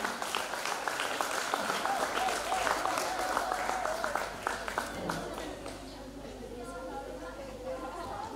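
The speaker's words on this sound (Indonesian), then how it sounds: "Beri tepuk tangannya untuk para nominator Sayyidah." Audience applause for the nominees at the opening of the Sayyidah As Sholchah selection, a steady round of many hands clapping with crowd chatter, fading toward the end.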